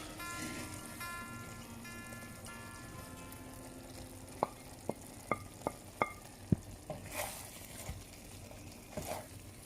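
Mutton karahi sizzling gently in a kadai with cumin powder, chaat masala and black pepper; midway, a run of sharp, bright clinks as a spoon strikes the metal, with a steady tonal background throughout.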